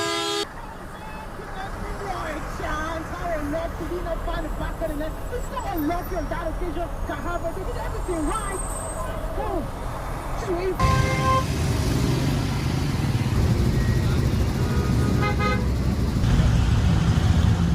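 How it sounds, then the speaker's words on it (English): Congested Lagos road traffic hums along while car horns toot in short, repeated bursts, and someone talks over the scene before the engine noise grows louder and denser in the later part. "With this current traffic, we could be here for more than 3 hours"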